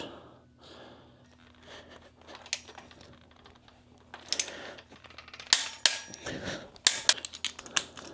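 Bolts on an aftermarket exhaust being torqued to 105 newton metres with a ratchet or torque wrench, a run of close sharp clicks and metallic ticks that grows denser and louder toward the end, with breathing but no talk.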